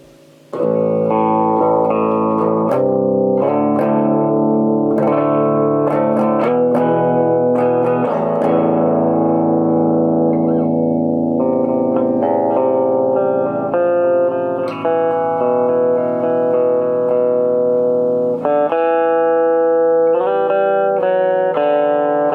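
An electric guitar through a Traynor Darkhorse amp on its Brit setting, lower gain, plays a continuous melodic riff of single notes and short runs, moderately crunchy and fairly loud.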